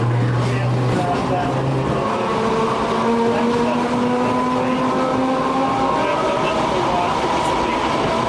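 An electric streetcar rides along the East Troy Electric Railroad track, giving a continuous rolling rumble with drawn-out whining tones from the wheels and motor, loud and close throughout.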